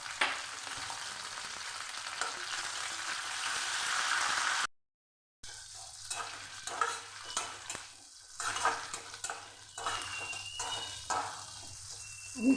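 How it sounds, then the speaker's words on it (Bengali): Tender neem leaves frying in mustard oil crackle and sizzle close up, loud and hissing. There is a brief silent gap, then the sizzle returns uneven and spattering with stirring. "এবার প্রথমে আমি তেলে"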